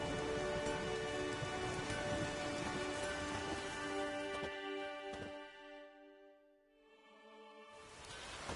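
Steady rain pours down in The Witcher video game, a dense hiss that fills most of the stretch before briefly thinning out near the end and then swelling again.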